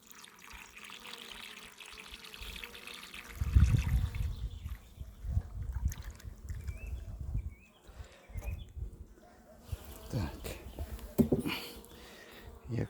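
Sugar syrup poured into a bee feeder, a thin trickle and splashy pouring in uneven bursts, close and moderately quiet, with faint background sounds.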